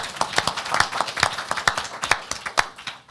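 A small audience at a panel discussion on antisemitism claps sparsely, with distinct individual hand claps forming an irregular patter that rises and fades over about three seconds.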